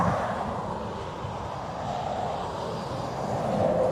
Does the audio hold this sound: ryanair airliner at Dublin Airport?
yes